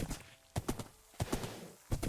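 A horse in a Minecraft-style video game trots along, its hooves giving rhythmic clip-clop pairs of steps repeating at a steady pace, close and clear with no talking.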